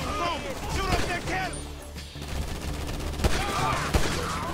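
Rapid bursts of gunfire from a first-person GTA V gang shootout crackle loudly and repeatedly across the scene, with sharp individual shots standing out amid shouting voices.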